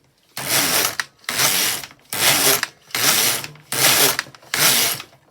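A domestic knitting machine runs rows of waste yarn. The carriage makes six loud, even, rasping sweeps back and forth, each about a second long, separated by brief pauses, close and alone.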